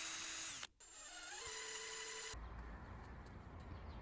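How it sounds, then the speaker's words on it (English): A power drill drives screws to mount solar fence lights, whining close and loud, briefly stopping, then rising in pitch before cutting to a rougher, noisier stretch. "I will be using screws to attach these."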